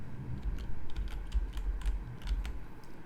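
Fingers tap on a computer keyboard at close range, a quick run of light, irregular key clicks over a soft low background hum, with no voices.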